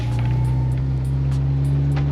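A Nissan 180SX idles and drives slowly around the block, a steady low engine drone with a strong hum and faint ticking, close and constant throughout.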